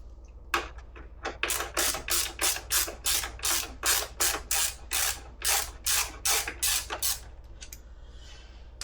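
A hand ratchet loosens T45 pivot bolts on a 2019 KTM 250 XC, with a close, steady run of about a dozen rhythmic clicking strokes over a low hum, then stops.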